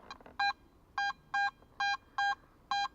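Metal detector tone over a buried coin in a field, six short, clear, evenly spaced electronic beeps, each about a tenth of a second, close and distinct over faint background noise.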